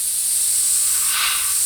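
A short, steady hiss of black spray paint misting over tape on a saw blade, close and continuous with a slight swell near the end.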